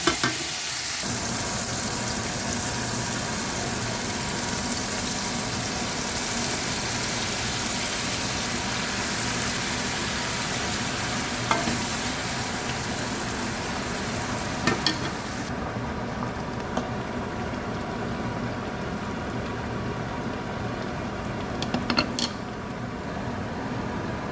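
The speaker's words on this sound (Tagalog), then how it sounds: "Igisa na natin." Ingredients for a Filipino mung bean dish sauté in a pan, a continuous close sizzle and hiss that holds steady throughout, broken by a few faint clicks of a utensil against the pan.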